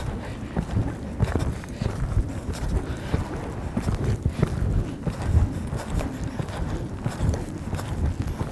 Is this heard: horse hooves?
yes